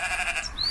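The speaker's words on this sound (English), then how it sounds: "It's a sheep." A sheep bleat sound effect triggered from a soundboard button, a single short bleat heard alone and fairly loud with a wavering tone.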